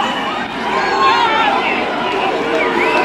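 A large crowd at a freedom rally in Melbourne surging through a police line, a dense roar of overlapping voices, shouts and movement, loud and close with a reporter talking over the noise.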